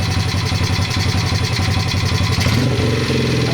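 A modded Honda 50 pitbike engine revving under throttle, a loud, close, buzzy small-engine drone that pulses rapidly, then drops in pitch toward the end as the throttle eases.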